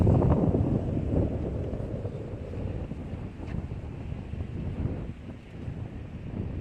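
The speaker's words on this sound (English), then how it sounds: "And you can hear the wind. It's really windy as well." Strong wind roars and buffets a microphone outdoors in a cold Minsk street, a steady gusty rumble with no talking.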